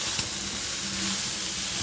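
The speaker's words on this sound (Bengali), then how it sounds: "তো এখানে একটু নুন দিয়ে নিতে হবে স্বাদ মতো, তারপরে আবার ভালো করে ভেজে নেব।" Leftover cooked rice frying in a pan just after salt is added, giving a steady, close broadband sizzle with faint stirring scrapes throughout.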